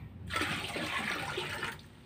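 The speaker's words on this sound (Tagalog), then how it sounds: "Dagdagan na lang natin ng tubig." Water pours steadily into a basin prepared for a bedside bath, a continuous close rushing gush lasting about a second and a half before it stops, with no one talking.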